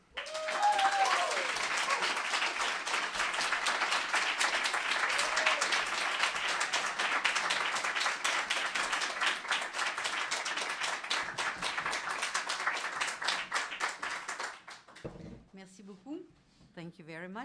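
An audience at a poetry reading applauds to welcome the poet Nicole Brossard with sustained, dense clapping for about fourteen seconds. The applause then thins out into a few scattered claps and soft rustling.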